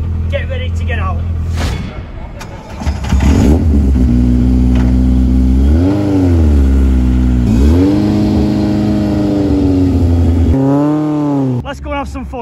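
A Vauxhall Cavalier GSi classic touring car engine runs loud and close, idling roughly and then rising and falling through several revs, the sound continuous throughout.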